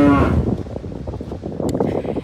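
Cows on a beach in Gianyar, Bali, lowing loudly and close at the start, then a low rumbling murmur of grazing animals continuing briefly without speech.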